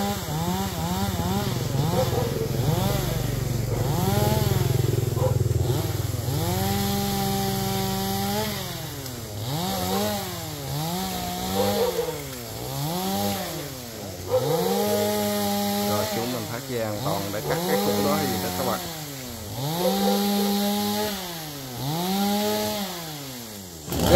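A chainsaw cuts down golden-flowered acacia trees beside a canal, its engine rising and falling in a regular rhythm of loud, close revs as the blade bites into the wood, with occasional voices in the background.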